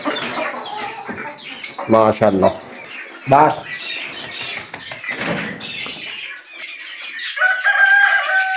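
Hens clucking and a rooster crowing nearby, with wings flapping and a person speaking over the birds.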